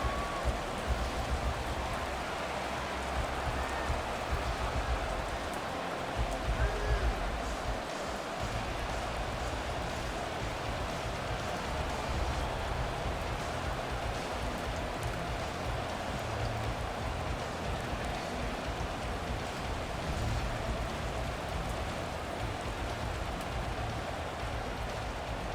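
Rain falls steadily in a Madden 24 football video game, a dense, even hiss of downpour that stays constant throughout with no talk over it.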